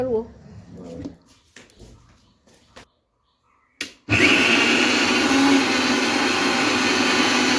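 A kitchen blender grinds grated coconut with added water into batter for crispy coconut fritters, starting abruptly after a pause and roaring loud and steady to the end; someone talks briefly beforehand.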